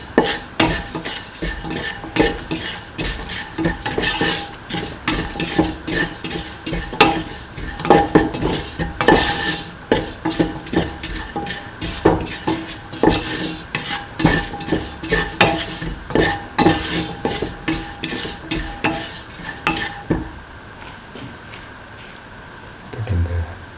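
Spices and ingredients for a potato and soy chunk dish are stirred in a pan, giving a run of repeated scraping utensil strokes over a low sizzle that stop near the end.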